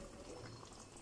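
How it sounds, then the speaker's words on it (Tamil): Water poured from a blender jar into a pot of homemade gravy, a steady faint liquid trickle and splash running evenly throughout with no talk. "நான் இன்னும் கூட ஜாரில் தண்ணி ஊற்றிட்டு குழம்புக்கு ஊற்றிக்கிறேன்."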